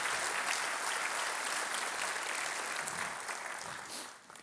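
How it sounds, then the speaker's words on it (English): A civic audience at a Long Beach development update claps steadily, a broad even wash of applause that holds and then fades toward the end, with no voices over it. "So please let's give them a big round of applause for the work that they do."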